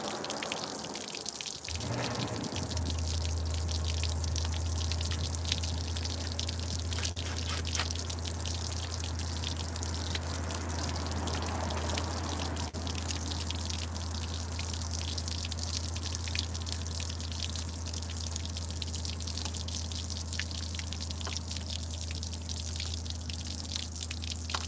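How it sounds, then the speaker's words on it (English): Water leaking inside a business, a continuous spattering drip and trickle heard close up for the whole stretch over a steady low hum, without pauses or talk. "we do need a water shutoff because all this water the business is currently paying"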